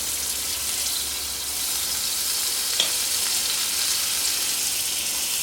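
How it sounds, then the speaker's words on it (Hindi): A little butter sizzles on a hot griddle beside a spicy garlic paratha made from liquid dough, a steady, close hiss of frying with no voices. "बिल्कुल थोड़ा सा मक्खन डालेंगे"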